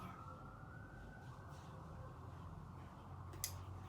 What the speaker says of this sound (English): I hear there's like a fire, an ambulance going by.